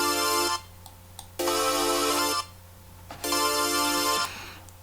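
A bright supersaw synthesizer patch with a harmonizer, played in Harmor, sounds three sustained, buzzy chords, each lasting about a second, with short gaps of quiet between them.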